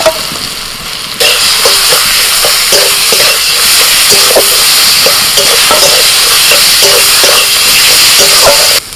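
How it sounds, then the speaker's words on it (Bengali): Ground drumstick (moringa) pulp paste being stirred in a hot frying pan with salt and turmeric: a loud continuous sizzle with repeated scraping strokes of a spatula in a steady rhythm, close by. "এবার সজনে ডাঁটা শাঁস বাঁটাটা দিয়ে দিচ্ছি।"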